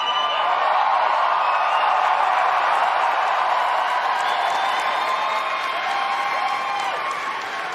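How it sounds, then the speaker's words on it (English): A large convention audience at Star Wars Celebration 2023 keeps up steady, dense applause with scattered cheers, an even wash of clapping that lasts throughout and fades slightly at the end. "Lukewarm crowd today,"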